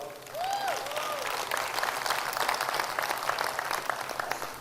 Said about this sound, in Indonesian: Kita kasih tepuk tangan untuk David Yao